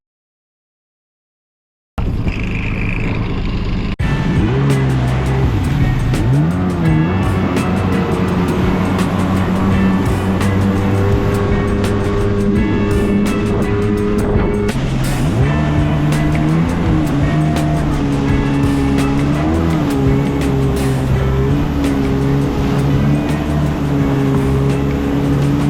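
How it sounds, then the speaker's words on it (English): A 1995 Kawasaki personal watercraft engine runs steadily and loud after a quiet start, its droning tone rising and falling with throttle changes, with no talk over it. "Hey, not too bad for a 30-year-old machine. It's a 95 Kawasaki."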